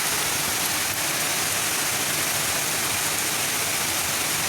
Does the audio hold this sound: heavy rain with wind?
yes